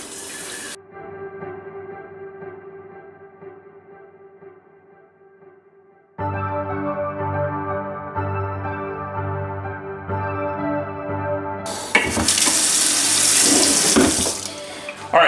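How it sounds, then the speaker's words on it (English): Hot tap water pours into a glass carboy during cleaning, starting as a thin steady stream, then growing fuller and more resonant as the flow increases, and ending in a loud rushing splash near the close. "Now we're going to put more clean water, there's a lot of water involved with this, into here"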